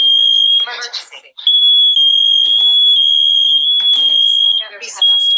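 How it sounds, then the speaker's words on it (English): A Nest smoke alarm in a master bedroom shrills with a continuous piercing tone, interrupted and overlapped by a synthetic voice speaking between beeps. "Smoke alarm in the master bedroom."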